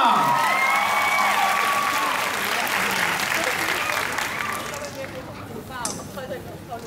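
A concert audience gives loud, sustained applause for the band's bassist, a dense wall of clapping with some cheering that gradually thins toward the end.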